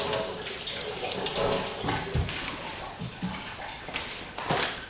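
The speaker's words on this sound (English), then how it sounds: "I'm just going to wash my hand." Water running steadily from a tap in a pottery studio while a hand is washed, a continuous splashing hiss with small knocks and shifts as the hand moves under the stream, close.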